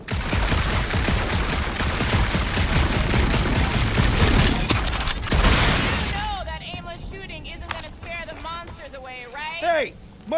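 Rapid gunfire from the Guardians of the Galaxy video game, dense and loud for about six seconds, then fading into chirpy alien-creature calls and game effects, with character voices talking over the action.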